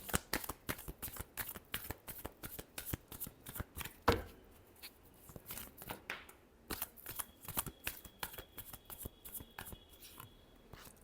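Tarot cards shuffled by hand, a long run of crisp close riffling snaps in an even rhythm with a brief pause partway, no one speaking.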